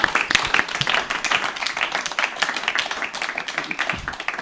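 An audience claps at a francophone public gathering, a loose patter of hands rising and thinning over a few seconds, fairly close, with a voice speaking intermittently over it.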